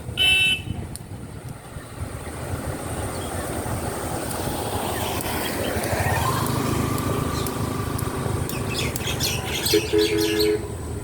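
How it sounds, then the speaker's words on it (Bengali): Flock of birds calling over an open field where ducks rest, with scattered chirps and calls over steady outdoor noise and a passing engine-like drone, fairly distant. "এতগুলা পাখি, দেখেন কত পাখি।"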